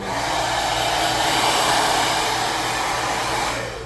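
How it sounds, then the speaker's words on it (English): A hair dryer blows steadily on hair during a retro fade haircut, a loud continuous whooshing hum that holds for several seconds and then trails off at the end. "And when we blow dry here, we are not forcing the hair in any direction."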